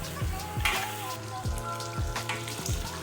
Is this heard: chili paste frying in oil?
yes